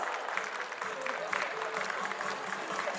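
Applause rolls through an award and felicitation ceremony hall, a steady wash of many hands clapping at moderate loudness with a voice faintly underneath.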